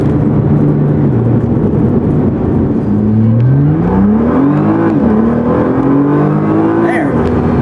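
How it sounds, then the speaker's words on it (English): A 2012 Nissan GT-R accelerating hard from a standstill to 60 mph, engine and road roar rising steadily in pitch with a gear change midway, heard loud from inside the car. "This is what 0 to 60 feels like."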